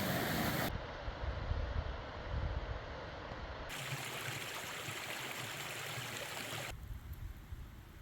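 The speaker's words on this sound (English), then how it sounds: "Another wet feet river crossing." Steady rushing water of a river crossing on a mountain trail, a broad continuous wash close to the microphone with some wind buffeting and no voices.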